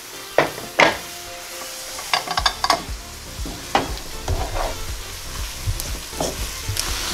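Tofu filling with vegetables fries in a pan while a utensil stirs and scrapes it, giving irregular close knocks and scrapes over a steady sizzle, with no voices.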